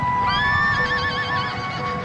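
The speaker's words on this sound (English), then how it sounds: "Mamelukes are beautiful, magnificent, their horses rearing, plunging." Horses of charging Mameluke cavalry neigh in a loud, drawn-out whinny over a rumbling background, rearing and plunging in battle.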